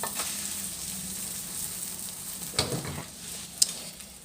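Omelette with wild sweet leaves frying in a pan, a soft even sizzle and hiss with a couple of brief scraping touches and one sharp click near the end, close and fairly quiet.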